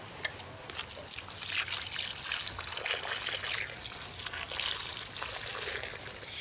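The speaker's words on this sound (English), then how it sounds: "all I'll do now is I'll just give them a water." Water poured from a can onto newly planted tomato plants on an allotment, a steady trickling and splashing onto soil and leaves that runs continuously at close range.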